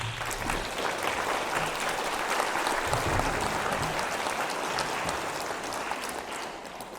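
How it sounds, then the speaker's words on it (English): Audience applause fills a graduation ceremony, a steady, dense wash of many hands clapping at close range, sustained at an even level for the whole stretch with no talk over it. "if we just give a round of applause to those people"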